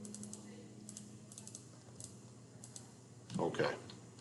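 Light keyboard typing of a chart title in Excel, soft scattered clicks in a quiet room, with a short louder burst of noise near the end.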